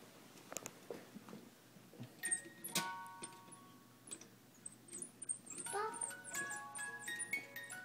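A jack-in-the-box crank plays Pop Goes the Weasel in quiet, tinkling music-box notes, mixed with small clicks and a voice nearby.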